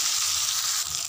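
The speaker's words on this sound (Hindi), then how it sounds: "तेल गरम हर पछते मैं कुंदुली तेल दी दिलु" Ivy gourd (kunduli) fries in hot oil, a close, steady, loud sizzle with bright hissing crackle and no pauses.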